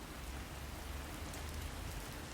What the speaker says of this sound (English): There's a strong wind, and it's raining.